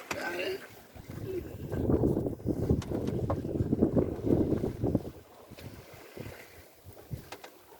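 Steady wind rushing past a sailing boat off Çeşme, with water swishing and microphone buffeting, loudest early on and easing toward the end.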